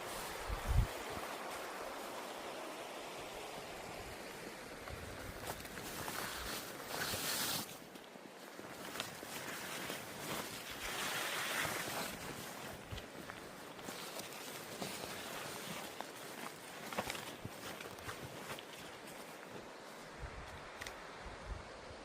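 The River May runs beside a forest wild camp, a soft continuous rush of flowing water heard from close by, with occasional brighter swells and faint rustles over the steady murmur.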